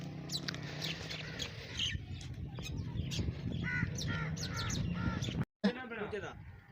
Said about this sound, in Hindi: चिड़ियों की आवाज़ें खूबसूरत हैं